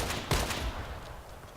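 An M14 EBR rifle fires a quick, fairly faint burst of gunshots in a video game, with a sharp crack and a short tail of echoing follow-up shots.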